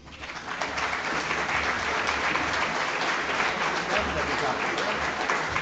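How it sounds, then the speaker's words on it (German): An audience breaks into sustained applause that swells quickly and holds steady, a full, even patter of many hands clapping. "Applaus"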